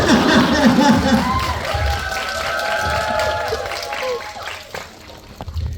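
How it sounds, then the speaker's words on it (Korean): A cinema audience applauds and cheers at a stage greeting, with steady clapping and crowd noise throughout while a voice talks over it on a microphone. "박수 좀 크게 쳐주시면 돼요"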